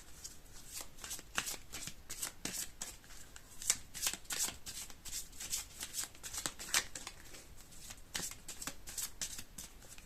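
Playing cards being shuffled by hand, a run of quick crisp riffles and flicks repeating at a steady pace, close and fairly quiet, with no voice over it.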